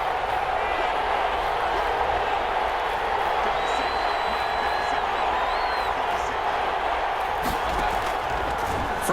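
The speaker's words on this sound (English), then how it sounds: "the crowd getting into it as we come up on a big 3rd down" A stadium crowd in the Madden 21 American football game, a constant broad roar of cheering and applause filling the background while a commentator talks over it.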